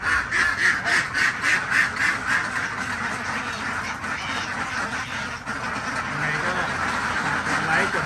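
Laying ducks quacking at a farm in Sikhio, Nakhon Ratchasima, a steady loud chorus of overlapping quacks from a flock nearby, with someone talking over them.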